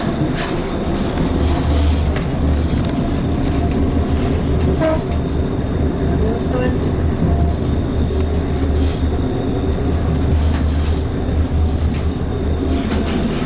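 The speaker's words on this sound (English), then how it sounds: "So this train goes on towards Port Leisure actually" A train running along a railway station platform on an Irish rail line, a loud continuous rumble with clicking wheels and a brief horn-like tone, no talk.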